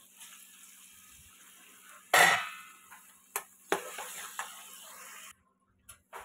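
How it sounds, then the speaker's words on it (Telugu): Tomatoes added to a potato curry in a pan make a sharp wet splash, followed by a few scraping stirs and soft clinks of the spoon against the pan, then near silence. "టమాటా వేసి ఇలా కలుపుకొని"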